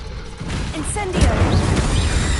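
Incendio fire spell cast in a Harry Potter video game, a sudden whooshing burst of flame with crashing impact noise, loud and dense over busy combat sounds and shouting voices.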